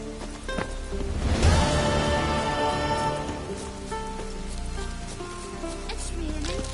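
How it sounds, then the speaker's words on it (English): Steady rain falls in the video game Witcher 3, a continuous hiss of drops on surfaces with a swelling gust near the start, layered with soft game music tones and no talk. "It's raining."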